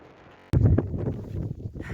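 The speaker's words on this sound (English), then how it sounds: "It's very windy here at the top." Gusty wind buffets the microphone on a hilltop along Offa's Dyke, a sudden loud blast after a brief quiet start, then rough fluctuating roaring rush.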